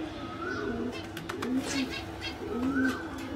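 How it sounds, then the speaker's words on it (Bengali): Domestic pigeons coo repeatedly, close by, in low, rolling, rising-and-falling calls that come in two or three phrases over faint background noise. "এটা নর পায়রা, নর বাচ্চা আছে।"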